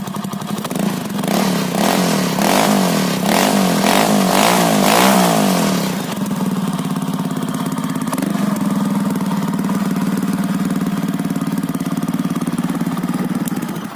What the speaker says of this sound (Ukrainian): такие вот вихлоп на мопеді.